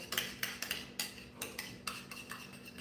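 A utensil clinks and scrapes against a bowl while ham slider ingredients are mixed, a series of irregular sharp knocks close up with a faint steady hum underneath and no talking.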